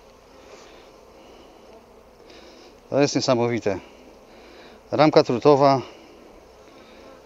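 Honey bees hum in a steady, soft drone while working a drone-comb hive frame filled with nectar, and someone speaks over them in two short bursts.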